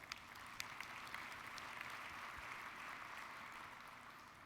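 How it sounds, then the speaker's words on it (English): Steady audience applause at an education conference general session, fairly faint and distant, with a dense wash of clapping holding evenly throughout with no voices over it. "So a quick round of applause for yourselves."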